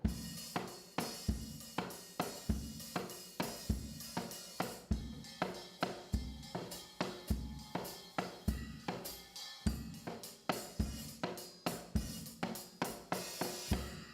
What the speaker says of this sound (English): And now if I were to play it with all of these instruments,